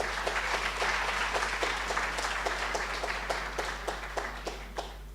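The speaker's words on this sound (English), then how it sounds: "give them a round of applause" A crowd at a university orientation claps for the live stream film crew, a sustained round of applause with distinct individual claps that gradually thins toward the end, over a constant low hum.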